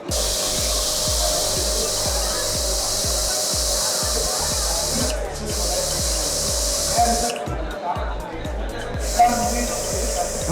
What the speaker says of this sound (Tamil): இந்த மாதிரி நாசிலே ஸ்ப்ரே ஷார்ப் வச்சுக்கலாம்